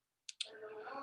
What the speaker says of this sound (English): I'm clicking on it